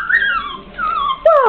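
Puppies whimper in loud, high, drawn-out whines that slide in pitch, two or three cries close by with a short pause between them.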